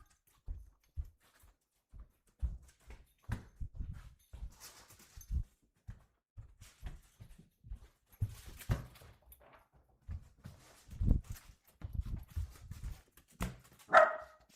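A dog runs around loose before being caught for the kennel, making quick light thumps and scrabbling footfalls in uneven bursts, close by in a quiet room, with a sharper bark-like sound near the end.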